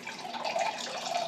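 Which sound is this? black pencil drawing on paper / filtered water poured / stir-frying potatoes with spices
filtered water poured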